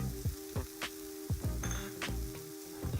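Chicken searing in a hot pan gives a continuous sizzle broken by repeated scraping and clinking strokes from a utensil, with a faint steady hum beneath and no talking.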